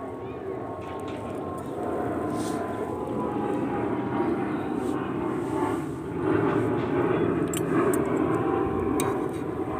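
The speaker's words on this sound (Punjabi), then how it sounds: "ਜਹਾਜ਼ ਲੰਘ ਰਿਹਾ ਜੀ ਕੋਠੇ ਉੱਤੋਂ ਨਹੀਂ ਬਹੁਤ ਰੌਲਾ ਪਾਉਂਦਾ" A low, steady engine rumble of an airplane passing over a rooftop toward Amritsar holds for the whole stretch, loud and continuous, with faint higher noise above it.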